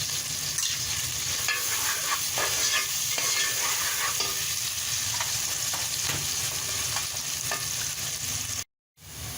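Steady sizzling and crackling of finely chopped onion and cumin seeds frying in hot oil, with occasional stirring scrapes, continuous until an abrupt cut near the end.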